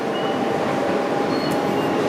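Steady, loud rumble of a New York Q train subway car in motion toward Coney Island, with a constant roar and faint metallic squeals over it.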